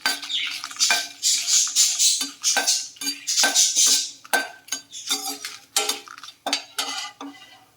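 Dried red chillies fry in a pan for a curry-leaf powder, with a quick run of close metallic scrapes and clatters as a spoon stirs them, in uneven bursts with brief pauses and no talk.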